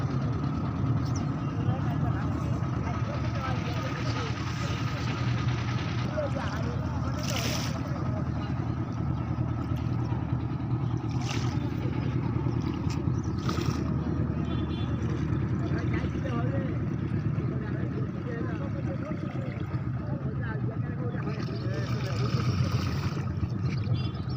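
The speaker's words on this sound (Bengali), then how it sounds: "আমরা অলরেডি নদীতে নৌকাতে উঠছি" A boat on a river drones steadily throughout with a constant low engine hum, with voices talking over it now and then.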